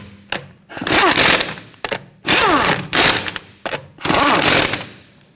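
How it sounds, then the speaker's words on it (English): A power impact tool snugging down lug nuts on a Kia Sorento rear wheel, four loud close bursts of rattling hammering with rising whine, separated by brief pauses. "Once we have them all started, we'll go ahead and snug them down."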